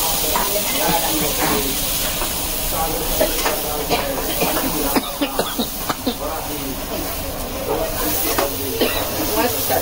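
Curry leaves crackle and sizzle in hot oil for a tadka while fish curry and fish fry are being cooked, a dense continuous frying hiss with sharp pops and spatters throughout.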